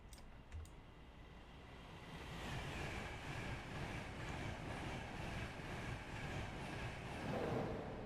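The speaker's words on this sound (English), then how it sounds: "we got a train that's basically running off of batteries because the pantographs haven't raised up" A Class 700 electric train in Train Simulator Classic, running on battery power with its pantographs lowered on the East Coast Main Line. A faint clicking comes first, then a steady, quiet rumble and hiss of the train rolling along builds and holds.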